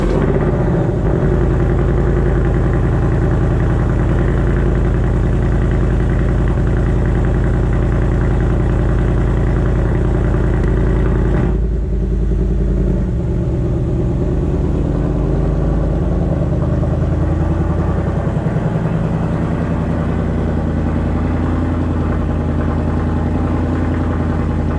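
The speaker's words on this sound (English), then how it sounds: "let's go ahead and get this car started and get you guys a cold start." A 2024 Ford Mustang Dark Horse idles loudly after a cold start, a steady deep engine drone that shifts slightly partway through and carries on alone.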